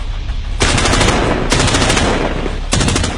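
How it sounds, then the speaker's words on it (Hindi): Three loud gunshot bursts ring out in a pre-dawn round of fire, each a harsh, crackling blast that spreads and lingers in a rough, echoing wash before the next one hits. "एकाएक 3 गोलियों का राउंड सुनाई पड़ा"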